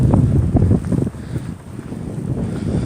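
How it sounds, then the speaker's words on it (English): Strong blizzard wind at 30 to 40 miles per hour roars over a snowy city street, buffeting the microphone in loud, close, gusty rumbling bursts with no talking. "The winds are blowing from around 30 to 40 miles per hour."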